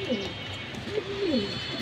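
Pigeons cooing close by, soft low throaty coos in two or three short rolling phrases over a faint background hum.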